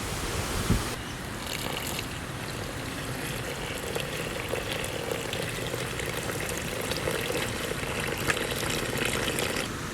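A steady, continuous rush of water pouring into all-purpose flour for several seconds, loud and even, with no voices.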